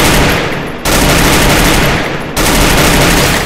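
Gunfire in Garena Free Fire, with loud, dense, continuous blasts of game shooting in two long sustained bursts, each cut off sharply, close and overwhelming with no talk.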